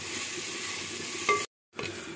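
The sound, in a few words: ginger garlic paste frying and being stirred in pan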